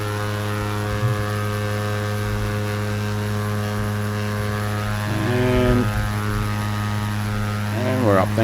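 A propeller airplane engine runs at high power before takeoff, a loud sustained harmonic drone with a rising whine near the end; brief speech-like tones sit faintly under the engine.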